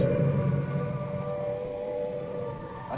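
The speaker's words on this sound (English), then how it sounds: "The noise that you hear at the moment is the sound of the air raid sirens." Air raid sirens over Trafalgar Square in wartime London, 1940, a sustained droning wail heard from a distance, steady and unbroken with faint city murmur underneath.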